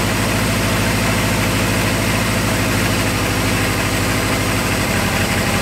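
Kawasaki KZ650 motorcycle engine idling on freshly built, synced carburetors, a loud, dense, steady rumble with fast regular firing pulses, close up and continuous, no voices.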